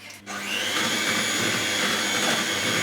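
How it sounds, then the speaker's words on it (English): An electric whisk runs steadily through chocolate cupcake batter in a home kitchen, a loud, even motor whirr that starts abruptly and holds without a break, with no talking. "Going to give that a whisk and I'll be back."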